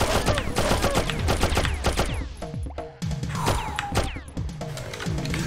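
Rapid bursts of gunfire and crashing mechanical clatter in the video game Oddworld: Abe's Exoddus, loud and dense throughout with overlapping shots and metallic clanks.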